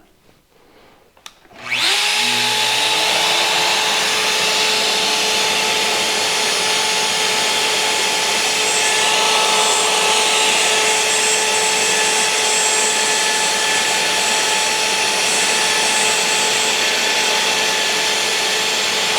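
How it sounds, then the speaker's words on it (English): A shop vacuum runs alongside a Shaper Origin handheld router cutting wood. A steady, loud, whining roar starts abruptly after a couple of seconds of quiet and holds constant to the end, with no voices. "I'll turn on the vac this time."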